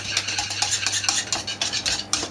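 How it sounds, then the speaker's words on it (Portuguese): A whisk stirs three egg yolks into cream in a pan for a lemon tart, making quick, rhythmic metallic scrapes and clicks, close and fairly quiet, with no voices. "e vamos misturar bem com o batedor."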